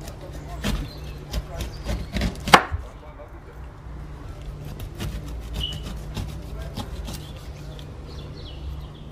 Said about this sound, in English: So we're gonna remove the skin and hard central core from the pineapple.